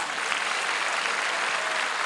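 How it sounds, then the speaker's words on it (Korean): Sustained applause rises from a large congregation at an outdoor prayer rally in Seoul, giving thanks to God and Jesus Christ with continuous, even clapping from beginning to end. "먼저 하나님과 우리 주 예수 그리스도에게 감사의 박수를 보냅시다"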